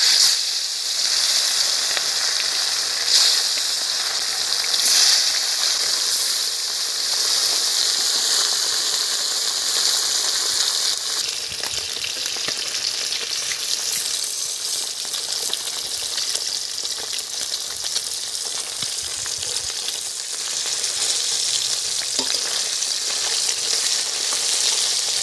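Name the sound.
silver biddy fish frying in hot oil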